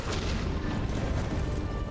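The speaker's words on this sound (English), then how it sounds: "I forgot how large those explosions were." Explosions in Hollow Knight: Silksong rumble as a dense, continuous booming roar, loud and unbroken throughout with no clear separate blasts and no voices.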